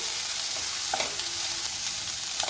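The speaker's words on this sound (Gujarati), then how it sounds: "હવે 2 મિનિટ થઈ ગઈ છે, આપણે એક વખત હલાવી અને ચેક કરી લઈશું।" Vegetables for a lightly cooked kachumber sizzle steadily in a pan, with a few soft scraping stirs breaking through the constant frying hiss, no voices present.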